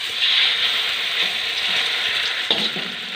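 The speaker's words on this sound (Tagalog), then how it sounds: "Tortang talong. Ulitin lang po natin ang pagprito." Tortang talong, an eggplant omelette, frying in a pan with a steady, loud, dense oil sizzle that continues throughout, plus a brief clatter near the end.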